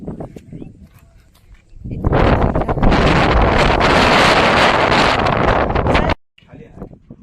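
Strong wind gusts roar and buffet the microphone for several seconds on Dategad fort near Patan, loud and close, then cut off abruptly to quiet.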